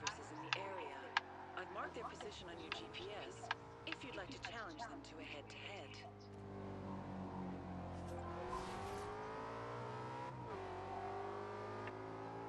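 Audi RS5 Coupe engine in Forza Horizon 2, revving and accelerating with a deep, beefy note that holds steady under shifting pitch, along with ticking sounds and a voice talking over it.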